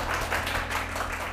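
A studio audience at a televised lecture show applauds to welcome a speaker. There is a brief, steady burst of clapping over a low rhythmic musical backing.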